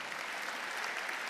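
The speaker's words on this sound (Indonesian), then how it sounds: "Yang setuju berikan tepuk tangan yang meriah." Congregation applauding during a church sermon, a continuous wash of many hands clapping at moderate volume, steady and unbroken, with no speech on top.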